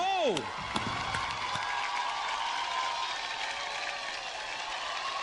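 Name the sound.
applause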